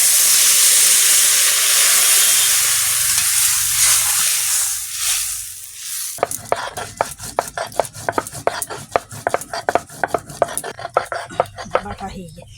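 Loud steady sizzle and hiss as water hits spice paste frying in oil for a pomfret and okra sour curry, fading after about six seconds into a run of sharp, quick clattering taps.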